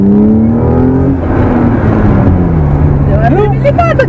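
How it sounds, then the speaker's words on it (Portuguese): A BMW drift car's engine revs hard under full throttle, a loud, steady roar with a rising pitch that holds strong throughout, while voices can be heard faintly near the end. "Vai, se dá uma acelerada agora. Vai. Acelera tudo, vai."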